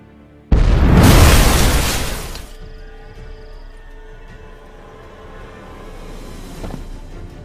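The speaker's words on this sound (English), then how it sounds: "That explosion gets us in the vault." A loud in-game explosion from The Witcher 3: Hearts of Stone during a vault heist, erupting suddenly into a heavy roaring boom for about two seconds, then settling into a low rumbling ambience with faint debris sounds.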